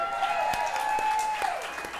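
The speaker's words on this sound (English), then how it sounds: "Nice round of applause for Dave" A live variety-show audience claps in a dense, steady burst, with scattered sharper claps and a faint sustained tone underneath, all moderately close.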